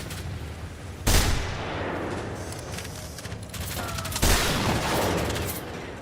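Hunting rifle fire in the video game Generation Zero, two sharp loud shots a few seconds apart, each trailing into a long rolling echo over steady game ambience.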